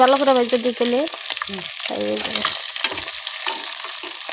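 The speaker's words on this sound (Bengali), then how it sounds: "গরম তেলে এইভাবে আমি মাছগুলো ভেজে নিব" Pangas fish frying in hot oil, a loud continuous sizzle and crackle throughout, with a sung or hummed voice rising over it at the start and occasional stirring noises.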